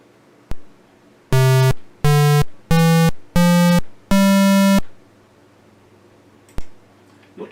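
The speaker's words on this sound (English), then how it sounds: "Let's change it to a square wave." Synthesized square wave tones from a code-built software oscillator: five bright, buzzy, harmonic-rich notes, the last held longer, each decaying slightly, loud and alone, framed by faint clicks before and after.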